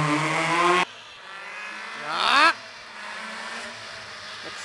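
A rally car on a stage road accelerates past, a brief rising engine howl that swells and cuts off, with quieter engine noise before and after.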